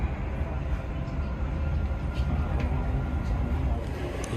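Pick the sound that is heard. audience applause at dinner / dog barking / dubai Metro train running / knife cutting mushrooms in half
dubai Metro train running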